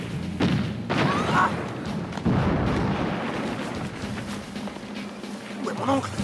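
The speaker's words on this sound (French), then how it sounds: "Canon de feu!" Heavy booming thuds of cannon fire roll out amid shouting voices and general commotion, several blasts landing over a few seconds.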